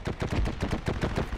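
Automatic gunfire in the World War II shooter video game Heroes & Generals: a rapid, evenly spaced string of loud, close shots that continues without pause and has no voices over it.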